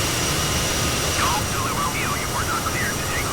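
An Aerosoft CRJ jet climbs out of Southend in Microsoft Flight Simulator, a steady, loud broadband engine roar lasting throughout, with faint warbling tones drifting over it midway.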